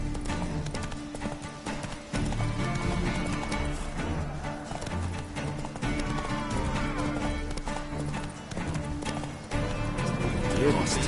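Galloping horse hooves from The Witcher video game, a steady rapid clip-clop running throughout under ongoing talk and background game music.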